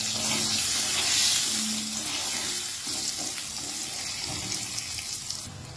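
Eggplant pieces frying in hot oil with salt and turmeric powder, a steady close hiss and sizzle with faint stirring scrapes, no talk.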